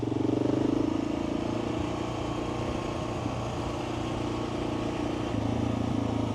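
Steady mid-pitched motorcycle engine puttering along in third gear on Fort Ross Road near Cazadero, California, a continuous near drone with slight load shifts and no talk.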